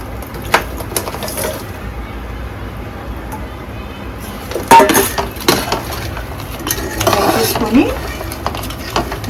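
Chicken pieces being added to golden fried masala paste in a pan for spicy chicken pickle, with clinking, scraping and stirring sounds under a voice talking.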